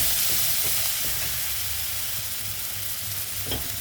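Spices with salt and ground cumin sizzle and fry steadily in a pan for a kofta curry, a continuous close crackle with faint stirring and no talking.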